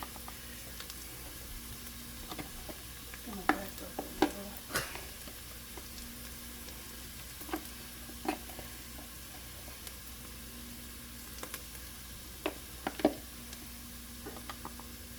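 Steady low sizzle of cumin and other spices frying in a pot for white turkey chili, with occasional scraping clicks from a spoon stirring through it.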